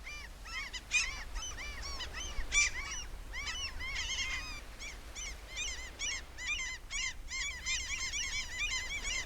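Many terns and gulls call from a colony on rocky islets of Lake Ladoga in a busy chorus of harsh, repeated cries, some near and some farther off, with no talking.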